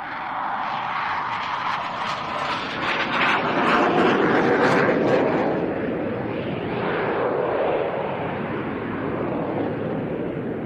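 A jet trainer at the RIAT airshow flies an on-crowd barrel roll, its engine a broad, loud roar that swells to a peak midway and then eases to a steady rumble.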